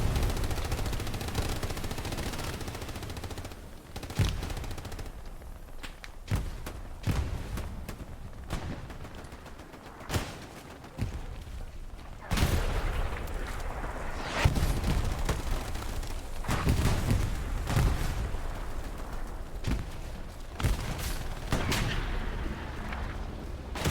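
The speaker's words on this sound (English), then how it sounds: "Watching the tank blow stuff up." Battle in the game Hell Let Loose at night, with a tank firing heavy booming rounds amid continuous machine-gun and rifle fire, dense overlapping blasts and bursts throughout, loud and near with distant rumbling between.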